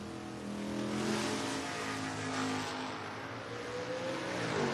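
Chevrolet Camaro drag cars of different generations launch at a drag racing event, engines roaring loudly and steadily at a distance, with no voices.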